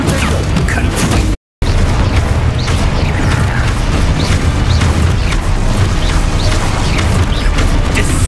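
Confringo spell blasts in Hogwarts Legacy, a dense, continuous barrage of crashing, booming impacts and magical bursts, loud and close throughout with one brief dropout near the start.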